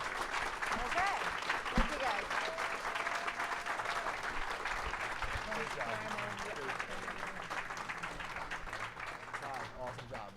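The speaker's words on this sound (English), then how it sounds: "let's just give a nice big round of applause to all 3 of our great panelists" Conference audience applauding a panel of three speakers, a steady crowd of clapping hands with scattered voices and a few louder claps, sustained for about ten seconds before tapering slightly.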